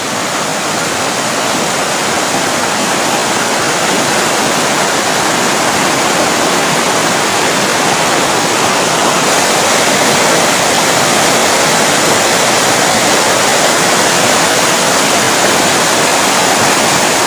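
A river waterfall in the Gujar Gabral valley pours with a loud, steady, unbroken roar of rushing water that stays close and constant throughout, with no voices.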